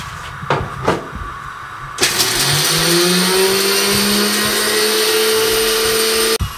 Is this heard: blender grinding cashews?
yes